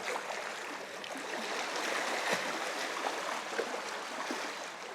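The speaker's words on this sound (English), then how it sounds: "These waves are crazy." Waves on open water during a fishing outing, a steady broadband wash of lapping and splashing that stays fairly even and moderately loud throughout, with no voices.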